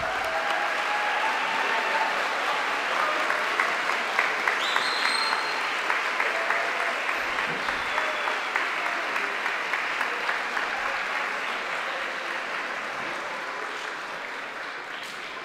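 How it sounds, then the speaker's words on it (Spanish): Loud, sustained applause from a large audience for new graduates at a Central American graduation ceremony, a thick continuous roar of clapping that holds steady and eases slightly toward the end. "Brindemos nuevamente un fuerte aplauso a los recién graduados."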